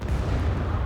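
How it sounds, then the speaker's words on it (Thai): A grenade launcher fires in the video game SCUM, a deep, dense booming blast that fills the short moment with low rumble, loud and sustained. "นั่นแหมียิงปืนระเบิดอ่ะ"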